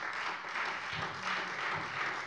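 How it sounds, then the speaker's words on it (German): A parliamentary plenary chamber fills with applause after a speech, a steady dense patter of many hands at moderate level, slightly distant and even, with no one speaking. "Applaus"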